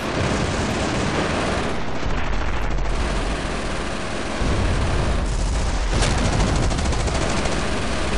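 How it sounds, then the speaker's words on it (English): Mortar blasts and heavy gunfire from the video game Company of Heroes Blitzkrieg, played on hardcore, roar in a loud, unbroken barrage of overlapping shots and explosions. "Mortars on the move."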